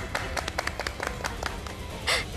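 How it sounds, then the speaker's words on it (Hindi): A small studio audience claps during a quiz moment in a Bhojpuri TV serial: a short burst of scattered, uneven handclaps, moderately close, swelling briefly near the end. "ताली ताली।"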